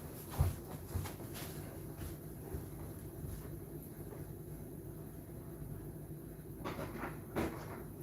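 A door is shut during a projector-screen painting job, heard as a couple of brief, solid knocks over a low, rumbling background with no talking.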